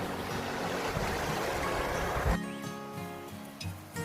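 A forest stream's rushing water flows loudly and continuously for a few seconds, then drops away abruptly, leaving a quieter scene with faint background sounds.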